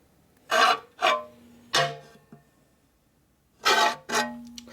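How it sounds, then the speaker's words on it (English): Hand file rasping across the cast iron table of a 12-inch surface grinder being trued, five separate loud strokes with quiet pauses between them. "So I need to concentrate on doing this filing right through here."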